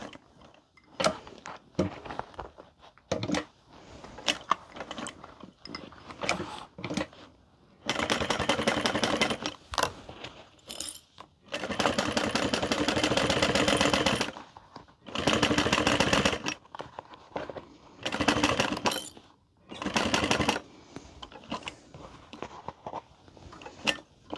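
A sewing machine stitching a handbag, running in several sustained bursts of rapid mechanical chatter separated by pauses filled with scattered clicks and handling noises, close and fairly loud.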